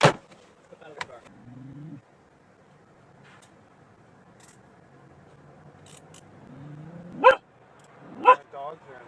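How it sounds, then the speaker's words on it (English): Dogs barking and yipping from inside a parked car during a roadside police stop, a few sharp barks and whimpers at the start and again near the end, heard from outside amid people talking. "My dogs are in the car."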